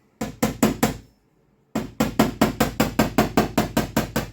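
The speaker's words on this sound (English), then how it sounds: "any of these high spots, you can sort of tap them down with a body hammer" A body hammer taps down high spots on a Toyota Sequoia's metal body panel: four sharp metallic knocks, a pause, then a steady run of about fourteen evenly spaced blows, close and loud.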